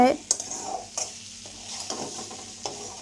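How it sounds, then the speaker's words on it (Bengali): Fried potato pieces get stirred into spiced masala in a pan, with sizzling underneath and several scrapes and knocks of the spoon against the pan at irregular intervals, close and fairly loud. "এবার দিয়ে দিলাম আগে থেকে ভেজে রাখা আলু তো আলু মশলার সাথে ভালো করে মিশিয়ে আরও চার পাঁচ মিনিট রান্না করে"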